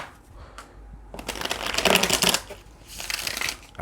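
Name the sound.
shuffling tarot cards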